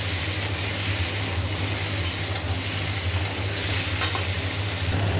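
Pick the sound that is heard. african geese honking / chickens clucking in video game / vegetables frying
vegetables frying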